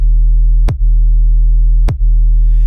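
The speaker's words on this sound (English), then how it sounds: "It sounds like this, just the 808 by itself." An 808 bass built in Ableton Operator plays alone: a loud, sustained low sub tone with two short clicky re-triggers roughly a second apart, and a faint hiss near the end.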